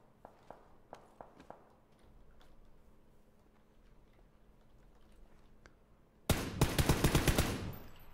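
A massive gun in a video game opens up abruptly as a loud, rapid burst of heavy shots. Quieter ticking clicks come before it.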